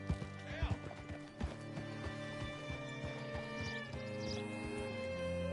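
Rhythmic horse hoofbeats clip-clopping in the foreground in Red Dead Redemption 2, with a horse whinnying and game music and voices playing underneath.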